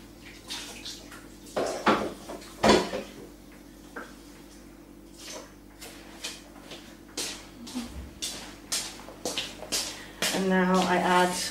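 A kitchen lid being washed in water, with intermittent clinks, splashes and knocks against a sink, followed by a steady run of water near the end.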